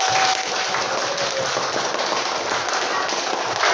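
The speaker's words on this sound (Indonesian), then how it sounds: "Beri aplaus dulu buat kalian semua" Students in a classroom burst into dense, continuous applause, a steady wash of clapping hands that holds at an even, fairly loud level throughout.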